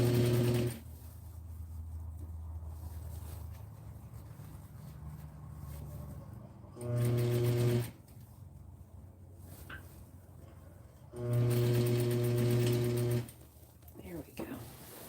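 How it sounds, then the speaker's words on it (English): Domestic sewing machine stitching along a garment's waist seam, heard as two or three loud sustained bursts of whirring separated by quieter stretches, with a steady low hum under the pauses. "Sewed right along that waist seam."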